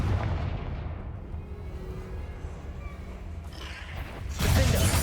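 A Confringo fire spell goes off in Hogwarts Legacy on PS5, a loud fiery blast with a rumbling tail that fades, then a second heavy burst hits near the end.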